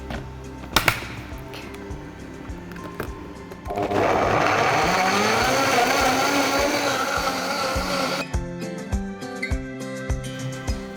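A Vitamix blender blends a green smoothie with water, first with some clattering handling, then a loud, steady motor whir with rising pitch for about four seconds before it stops and knocking resumes.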